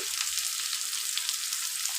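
Chicken pieces fry in hot oil in a pan, giving a steady, even sizzling hiss at moderate loudness with no talk.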